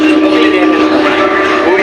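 Inside a nearly empty passenger train carriage, a loud, constant rumble and rattle of the moving train fills every moment without a break.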